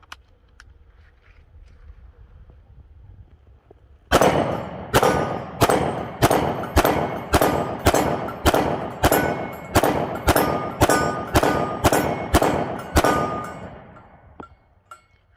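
A S&W M&P 10mm pistol with a 4-inch barrel fires 180-grain handloads in a rapid string of about seventeen loud, sharp shots at an even cadence after a quiet outdoor start, with ringing echoes trailing off.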